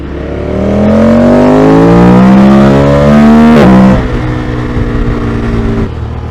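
A motorbike accelerates hard and close, its engine note climbing steeply through the revs for several seconds, then cutting abruptly as a gear change drops the pitch, with the engine settling to a lower steady drone afterward.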